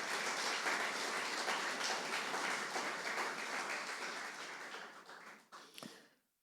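A church congregation clapping hands together in praise, a dense, continuous patter of many claps that gradually fades out, with a sharp final clap.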